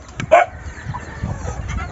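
A mestizo jungle fowl chicken gives a short cluck, close by and moderately loud, followed by quieter low rustling and faint background noise.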